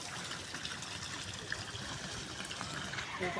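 Water trickling in an artificial park fountain, a steady soft broadband wash with faint splashing, continuous and fairly quiet throughout.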